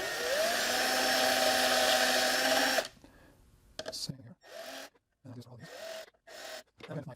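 Small power drill running a tiny 1/16-inch pilot bit into wood for a mitered box: a steady high whine rising in pitch for nearly three seconds, then stopping, followed by short bursts of talking.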